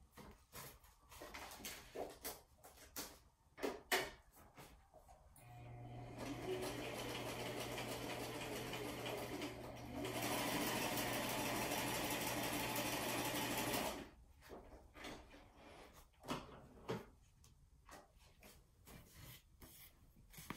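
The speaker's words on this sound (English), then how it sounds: "I'm going to go ahead and sew it right here and cut this off when I'm done." Sewing machine stitching a paper mini shaker album, a steady mechanical whir running for about eight seconds in the middle, framed by quiet handling clicks and rustles before and after.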